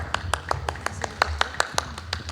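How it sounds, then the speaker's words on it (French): An audience at a startup competition claps for a candidate, an evenly spaced rhythmic clapping with crisp individual hits over a low room hum, close and moderately loud. "LD Genix, sous vos applaudissements, mesdames et messieurs."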